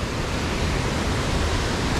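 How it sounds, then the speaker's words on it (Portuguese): Cachoeira da Noiva, a waterfall in Itatiaia National Park, pours as a steady, dense rush of falling water that holds evenly loud and close throughout, with no voices. "Cachoeira da noiva."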